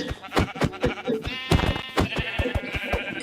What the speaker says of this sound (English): 3 sheep.